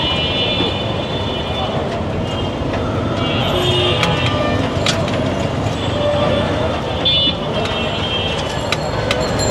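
Dense street traffic in Bangladesh roars steadily, with scattered short horn blasts and beeps cutting through the din, heard from inside a moving vehicle.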